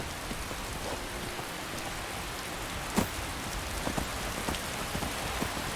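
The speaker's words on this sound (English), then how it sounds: "surprise, surprise, it is raining again" Steady rain pours down across a modded Skyrim Special Edition landscape, a dense even hiss of drops on surfaces with no talk, and one brief louder patter near the middle.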